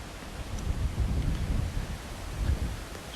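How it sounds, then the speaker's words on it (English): Wind gusts blow in low, rumbling buffets against the microphone, rising and falling steadily with no voices. "it's windy again this morning"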